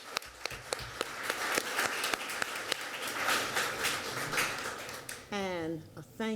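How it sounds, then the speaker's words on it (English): An audience at a panel on historically Black colleges gives another round of applause to Benedict College, steady scattered clapping that runs for several seconds before a voice begins speaking. "Let's give another round of applause to Benedict College"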